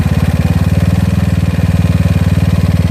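GY6 scooter engine fitted with an OKO PWK 30mm carburetor being tuned, running close and loud with a fast, even, pulsing putter at steady speed, with no voices.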